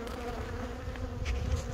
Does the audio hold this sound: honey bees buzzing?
yes